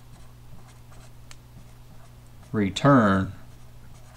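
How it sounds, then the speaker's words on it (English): Pen or marker strokes scratch softly across a writing surface as an equation is written out, in faint rhythmic taps over a low hum before someone briefly speaks. "And we'll write this out here."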